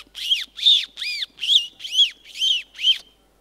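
A person whistles an imitation of a parrot's call, seven bright, evenly spaced chirps in a steady rhythm, close and clear against silence.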